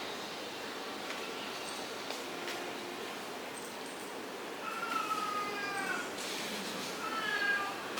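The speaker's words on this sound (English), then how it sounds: "I don't know whether this cat will make a noise or not." A cat meows faintly several times in a quiet room, with high, thin cries rising later in the stretch and no one talking over them.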